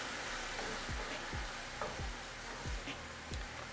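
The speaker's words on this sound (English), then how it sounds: "I'm just gonna put it in here to kind of deglaze" Mushrooms sizzle softly in a pan as broth is poured in to deglaze them for a vegan scalloped mushroom stuffing, a faint steady hiss broken by a few low soft knocks.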